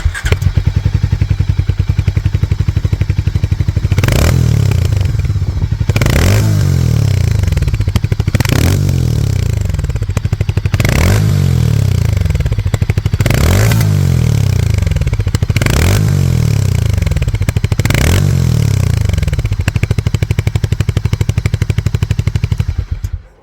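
A loud Harley-Davidson X440 single-cylinder motorcycle engine thumps steadily in a low, even beat, with its revs rising repeatedly in sharp bursts that fall away between them.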